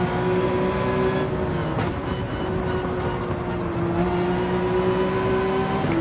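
Race car engine in Gran Turismo 7 online racing, a loud steady high-pitched drone that dips briefly then climbs again as the car accelerates back to full throttle, no voices.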